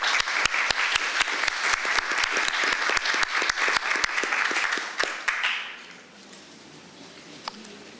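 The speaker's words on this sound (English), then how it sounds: "can we give a round of applause to our panelists?" Audience applause for conference panelists at a workshop session, a dense burst of many hands clapping with some louder individual claps, sustained for about five seconds before trailing off into quiet room tone with a stray clap.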